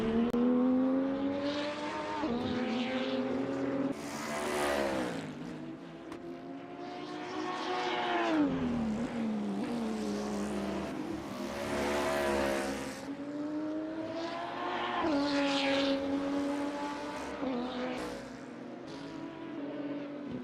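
A GT3 race car in a sim racing game drives through a corner at Curva Corsia, its engine note rising and falling steadily through gear changes, loud and continuous with no voices over it.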